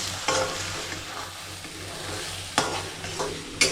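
Crab roe mixture being stirred into a crab masala in a pan, a steady soft scraping and sizzle close by with a few sharper clinks of the spoon against the pan.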